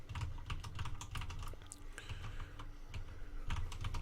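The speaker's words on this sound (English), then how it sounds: "I'm sorry if my keys are a bit loud. My microphone is pretty close to the keyboard" Rapid, close-miked keyboard typing with clacky keystrokes in uneven bursts, fairly loud and continuous, with no voices.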